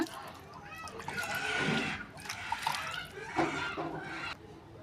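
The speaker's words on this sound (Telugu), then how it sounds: "ఇలా కంపోస్ట్ వేసుకున్న తర్వాత మళ్ళీ ఒకసారి దీనిపైన వాటర్ స్ప్రే చేసుకోవాలండి" Water sprayed onto compost in a plant pot, with several short bursts of splashy spray and drips close by, mixed with someone talking throughout.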